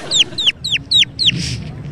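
A man mimics a chicken with his mouth, making five quick, evenly spaced squeaky clucks followed by a breathy hiss.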